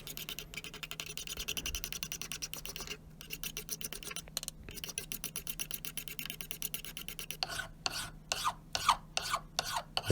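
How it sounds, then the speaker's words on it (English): Smoothing file worked across a steel hammer head during a restoration, rapid rhythmic rasping strokes close up, with a couple of brief pauses and sharper, louder strokes near the end. "filing down with the smoothing file"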